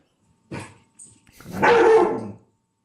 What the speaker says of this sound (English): It's dogs, man.